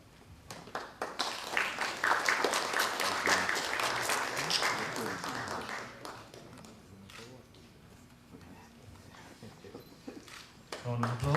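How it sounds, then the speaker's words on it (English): Crowd applause in a hall as professors are called to the stage, starting with scattered claps, swelling to a full round, then fading while a voice speaks and clapping picks up again at the end. "A round of applause."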